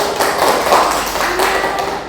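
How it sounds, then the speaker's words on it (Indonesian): Classmates in a Year 9 Indonesian-language lesson clap together in a dense, continuous burst of applause that holds steady for about two seconds, close and fairly loud. "tepuk tangan teman-teman"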